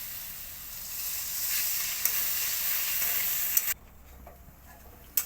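Frying sizzle of hot oil in a pan while a Bengali mango-and-pointed-gourd curry cooks with cumin and coriander, a loud steady hiss that cuts off sharply near the end, with faint stirring clicks.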